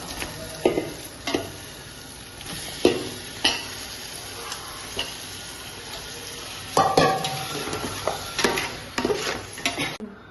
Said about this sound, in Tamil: மட்டன் போட்டு வதக்கி இருக்கிறோம்ல